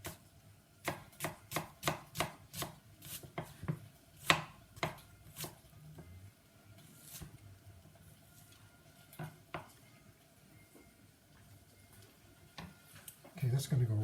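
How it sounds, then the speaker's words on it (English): A knife slices a red onion on a board, producing a quick run of crisp, close chopping taps that slow and thin out into scattered knocks, with a clatter of kitchenware near the end. "nicely grown red onion here. Maybe take about a third of this. And now we're just going to slice this down."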